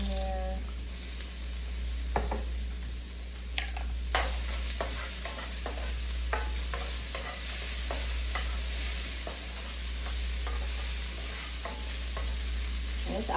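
Red onions and minced garlic frying in hot oil with butter in a pan, a steady close sizzle with a scraping utensil stirring, knocking and clicking at intervals, over a low hum.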